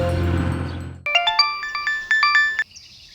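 A mobile phone rings after a burst of tense background music cuts out, sounding a bright, rhythmic ringtone melody of short repeated notes, close and clear with no talking.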